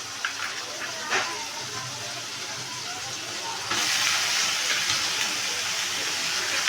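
Radish pieces going into a hot pan for a Pahadi sabzi, with a sudden loud, steady hissing sizzle that continues to the end over faint kitchen background.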